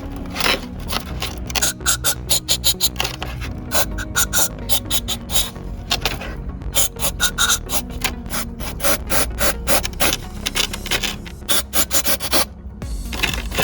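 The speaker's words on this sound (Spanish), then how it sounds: "vamos a rociarlo con el 3 en 1, con el desengrasante, vamos a limpiarlo y dejarlo secar." A BMW E90 petrol engine part is scrubbed clean with degreaser, giving rapid repeated brushing and rasping strokes in quick bursts with brief pauses, close and loud.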